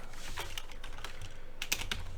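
Rapid, irregular keystrokes on a computer keyboard, close and steady for a couple of seconds, with a few sharper clacks near the end and no voices.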